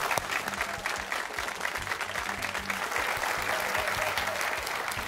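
Studio audience applause for the Chelmsford team on a high school quiz show, a steady, even wash of many hands clapping throughout, with faint tonal sounds beneath.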